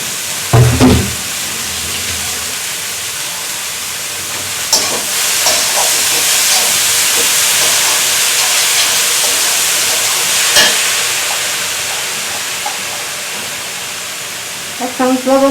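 Leafy greens (shak) frying and steaming in a pan for a brothy Bengali greens dish, giving a steady close sizzle and hiss that runs almost the whole time, with a few clinks of stirring.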